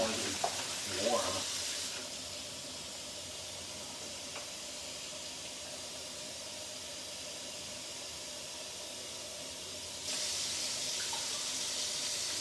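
Warm water runs from a tap to wash a dog, a faint, steady hiss of flowing water that strengthens toward the end. A voice sounds briefly near the start.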